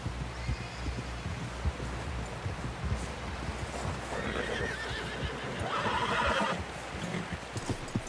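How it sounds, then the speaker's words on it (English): Horse in the video game Red Dead Redemption 2, a loud whinny over rhythmic clip-clopping hooves with a steady low rumble underneath. "Someone help John down off this horse."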